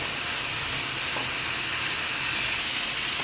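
Dried red chillies frying in hot oil while seasoning an onion tomato chutney, a close, steady, even sizzling hiss from start to finish.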